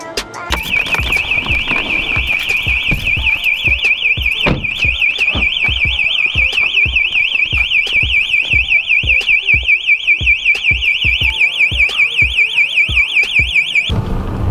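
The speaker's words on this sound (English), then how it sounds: "I have no idea why this alarm went off." A house alarm blares loud and close for the whole stretch, a rapid warbling electronic tone pulsing in a steady fast rhythm until it cuts off near the end, with no one talking.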